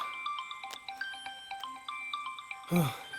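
An incoming call's phone ringtone plays a looping electronic melody of short, bright repeated tones, steady and fairly clear, ending in a brief burst of noise near the finish.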